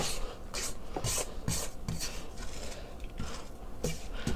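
A spatula scraping a stand mixer bowl of pound cake batter: repeated rasping, rubbing strokes roughly every half second, close and steady, with no talking.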